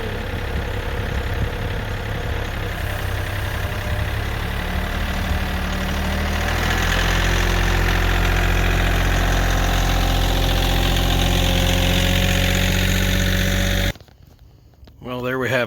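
A tractor used for snow plowing runs at a steady, rumbling idle close by, its low drone swelling slightly midway before cutting off near the end.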